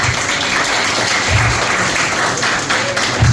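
Students in a classroom burst into lively, sustained applause, a dense close clatter of many hands clapping steadily for a few seconds.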